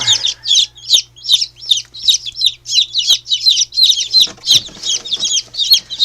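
Newly hatched chicks in an incubator chirp loudly and close up in a rapid, steady series of high peeps, with a low hum underneath.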